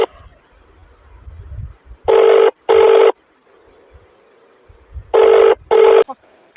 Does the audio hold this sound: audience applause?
no